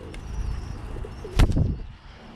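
A Birmingham Roller pigeon, a yellow bird, gives a short, close coo against a rumble of low background noise.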